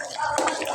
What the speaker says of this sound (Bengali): আমি এর মধ্যে এখন আলু দিয়ে দিচ্ছি